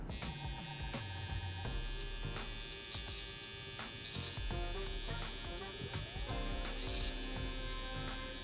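A Kemei 1949 electric hair clipper buzzes steadily and continuously, a close, unbroken motor drone with faint rattling overtones throughout.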